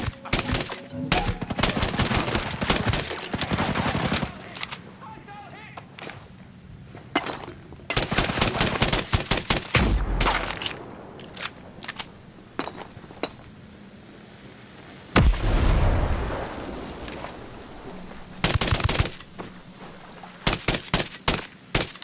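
Gunfire in the video game Ghost Recon Breakpoint, repeated loud bursts of automatic fire with sharp single shots and brief pauses, plus some glassy clinks between volleys.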